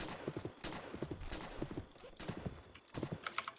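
Horse hooves clip-clop at a steady walking rhythm, close and quiet, in the Roblox western game Westbound, with a faint whinny-like sound among the hoofbeats.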